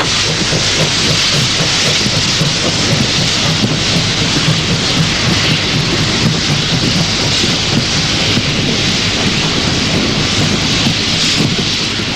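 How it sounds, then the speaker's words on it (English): A DR Class 50 steam locomotive, East German, hauling a freight train southbound, heard as a loud, steady roar of hissing steam and rolling train noise that stays constant throughout with no talking. "Class 50 3702 heads south on freight."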